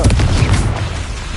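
Confringo spell explosions in Hogwarts Legacy, a loud continuous booming blast with heavy low rumble and crackling burst sustained through the moment, no voices.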